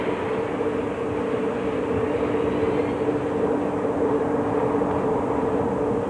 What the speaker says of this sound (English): Taxiing along here, we're not at our all-up weight